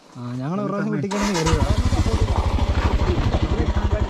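Motorcycle engine off-roading on a rough hillside trail starts up and settles into a loud, rhythmic chugging pulse close by, with a voice talking over the opening moments.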